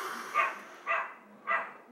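Three short dog barks spaced about half a second apart, moderately close, over a quiet outdoor background.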